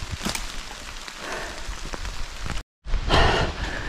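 Steady rain falls on a high mountain slope covered in wild greens, making a constant close hiss with scattered drop patters and one brief cut in the sound.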